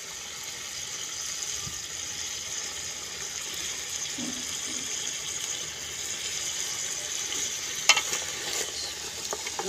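Steady sizzling and frying in a hot pot as yogurt is added to a paya (trotters) curry, with light stirring clinks and a brief scrape near the end, no voices.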